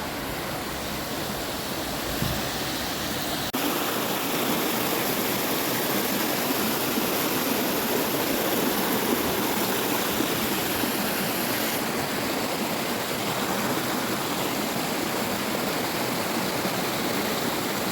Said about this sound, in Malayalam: ചെറുചക്കിച്ചോല വെള്ളച്ചാട്ടം വെള്ളമായി തുടങ്ങിയിട്ടുണ്ട് ഇവിടെ.